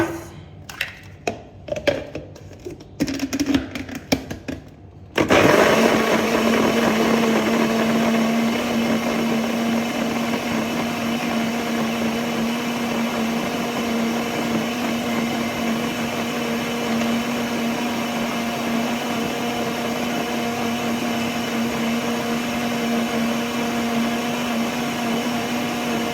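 A blender starts up abruptly after a few seconds of clattering and runs steadily at a loud, constant whir for the rest of the clip.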